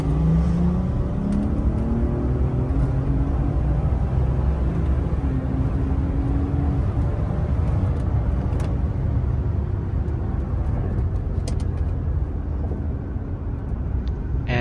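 A car with a B58 turbo engine pulls hard under acceleration, a loud, continuous engine roar with rising whining tones that climb steadily throughout, heard close and alone.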